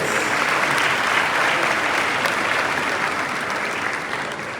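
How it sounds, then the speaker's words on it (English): A large audience at a school launch event gives a round of applause, with dense, loud clapping that stays steady across the whole stretch and tapers only slightly at the end. "let's hear it up for them, a resounding round of applause."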